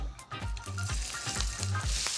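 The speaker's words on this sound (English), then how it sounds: "Anything less than that sizzle, when you put that first prawn in there, don't put them in" Prawns hitting a very hot pan with a teaspoon of olive oil, crackling into a loud, steady fry that swells as more go in, with occasional pan knocks and stirring scrapes.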